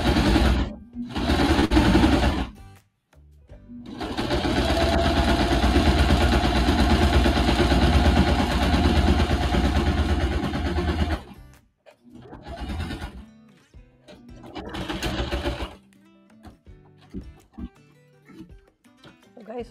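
A sewing machine stitches a garment's second side seam in steady runs: one long continuous whir of about seven seconds, flanked by shorter stop-start bursts, close and fairly loud.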